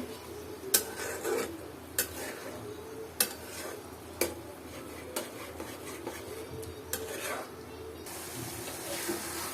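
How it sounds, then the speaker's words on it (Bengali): Mung and masoor dal roast in a pan while a spoon scrapes through them in rhythmic strokes about once a second. A faint hiss runs underneath. "এই যে মুগ ডাল আর মুসারির ডাল একসাথে এবার এই দুটো ডাল একসাথে ভালো মতো কষাতে হবে"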